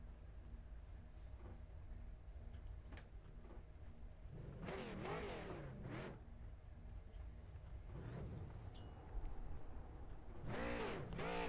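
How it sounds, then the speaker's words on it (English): Race cars do burnouts together in a sim racing game, engines revving in repeated rising and falling bursts over a constant low drone, the loudest surges coming near the end. "Everyone looks like they're going to be all doing some burnouts together."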